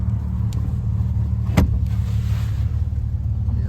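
A 1956 Jaguar Mark VII M has its passenger window raised while the engine idles, giving a steady low rumble throughout with a single sharp click partway through.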